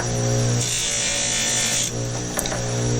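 A motorized buffing wheel spins against a tobacco pipe coated with carnauba wax, giving a steady close whir with a brief scuffing contact near the end.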